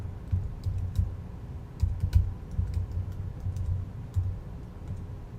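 Typing on a computer keyboard, a search entered for a barbershop's website; short bursts of soft clicks in irregular runs over a low background hum, close and fairly quiet with no talking.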